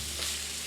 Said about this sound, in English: I'm just gonna stir this around and brown the beef